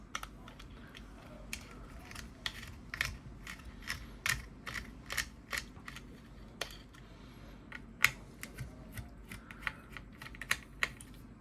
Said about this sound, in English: I'm just going to use my Phillips number 0 to undo this